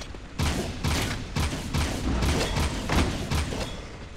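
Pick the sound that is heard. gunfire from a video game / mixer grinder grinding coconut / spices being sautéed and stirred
gunfire from a video game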